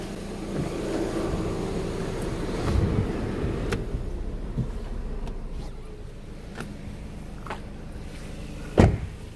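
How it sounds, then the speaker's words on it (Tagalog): Suzuki Ertiga engine idling with the air conditioning switched off, a low steady rumble heard close, interrupted by several sharp clicks and knocks and a louder thump near the end. "Ganyan ang tunog ng makina niya guys sa loob ng 3 taon at 2 buwan."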